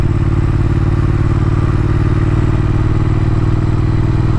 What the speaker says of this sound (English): This is just gonna be a video pretty much of the ride, which is on the Thruxton R.